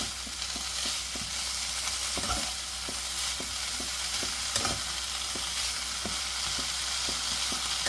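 Black nightshade leaves wilting in a hot pan as they are stirred, with a steady low sizzle and regular soft scraping knocks from the stirring spoon.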